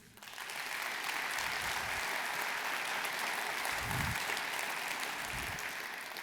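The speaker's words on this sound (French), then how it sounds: "Vous pouvez les applaudir aussi." Sustained applause from an audience at a New Year's greetings ceremony, honouring municipal workers; a full, even roar of clapping starts quickly and holds steady throughout.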